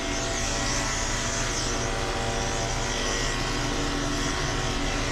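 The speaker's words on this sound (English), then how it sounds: "the clipper vac really helps with the haircut, because you're not having to constantly back brush because the clipper vac picks that hair up for you" A clipper vac runs steadily while a Yorkie's terrier coat is groomed and trimmed, giving a loud, constant motor whine and airy suction roar with a faint wavering hum and no talking.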